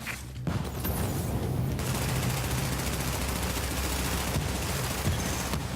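Rapid automatic gunfire rattles in sustained bursts as enemies assault a fortification in The Division, a dense, loud, continuous barrage with a brief lull near the start and a heavier thump toward the end.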